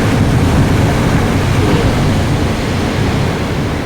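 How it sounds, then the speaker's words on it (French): Steady broadband roar of surf washing onto a shore, continuous and fairly loud, with wind noise mixed in and no voices. "J'écoute le bruit des vagues"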